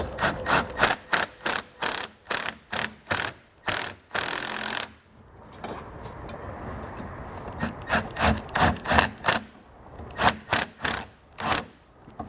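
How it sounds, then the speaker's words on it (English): A ratchet with an 8mm socket snugs down a bracket of a universal trailer brake controller installation kit: rapid bursts of sharp, close clicking strokes in a repeated rhythm, pausing once for a few seconds of quieter handling noise before resuming. "then we'll snug it down with an 8mm socket."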